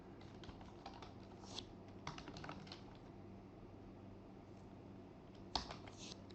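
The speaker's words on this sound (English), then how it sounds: "here I'm going to type the administration username and password" Rapid keystrokes on a computer keyboard as an administrator username and password are entered on a Windows Server 2019 machine, close and fairly quiet, with irregular bursts of clicking and one sharper tap near the end, no talking.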